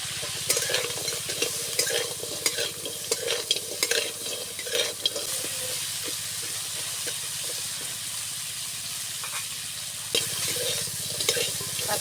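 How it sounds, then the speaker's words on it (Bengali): Live crabs fry in hot oil with salt and turmeric, a close, steady hissing sizzle with frequent scraping and stirring clatter in the pan, with no talking. "এবার কাঁকড়াগুলো ভেজে নেব। দিয়ে দেবো সামান্য নুন, সামান্য হলুদ।"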